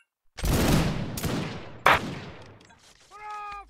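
A musket line volley in Mount & Musket bursts out as a loud, ragged crackle of many shots, followed by a few straggling reports that echo and fade, and then a short musical signal at the end.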